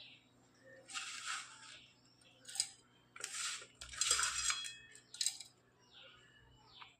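Spoon scraping and clinking in a bowl while dry ginger powder and jaggery are mixed together, in irregular bursts of metallic scraping with short pauses between, close and fairly quiet.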